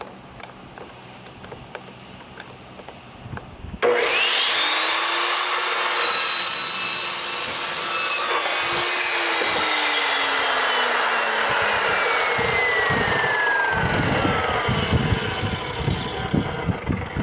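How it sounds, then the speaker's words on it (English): A saw fitted with a pipe adapter cuts pipe clamped tight in a vise. It starts abruptly after a few quiet seconds, its whining tone rises and then slowly falls, and it keeps running loudly to the end. "this saw does come with a pipe adapter, so it holds the pipe right there, nice and tight against the vise"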